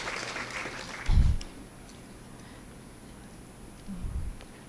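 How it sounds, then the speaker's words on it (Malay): An audience at a university medical faculty's research meeting gives brief, faint applause in a large hall, followed by a few soft bumps and quiet room noise. "berilah tepukan gemuruh kepada pelajar-pelajar tahun akhir"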